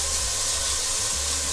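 Beef stir-fries in a pot over lowered heat for Korean seaweed soup, giving off a continuous, close sizzling hiss without a break.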